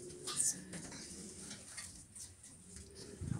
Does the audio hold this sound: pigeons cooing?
yes